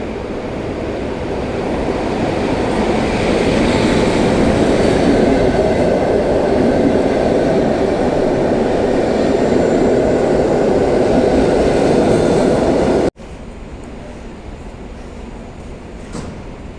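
A train rumbles along the rails at a station, loud and steady for about thirteen seconds, then the sound cuts abruptly to a quieter, lower hum of the moving carriage.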